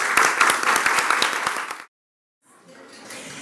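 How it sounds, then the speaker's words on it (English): A conference audience applauds with dense, steady clapping for under two seconds, then it cuts to silence before faint room noise returns. "let's have a round of applause for our sponsors"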